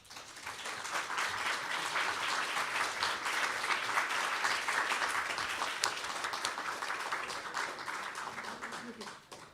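An audience applauds as directors walk onto the stage at a live panel event, a broad, sustained wash of many hands clapping that builds quickly, holds steady for several seconds, then stops abruptly.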